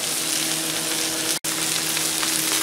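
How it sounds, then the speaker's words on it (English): Okra frying on a Blackstone griddle gives a steady, loud sizzle that runs throughout, broken by one sudden brief silence near the middle before the sizzle resumes unchanged. "if you want it to really start frying really good, just put a little water on there, and that'll help with the sizzle some too"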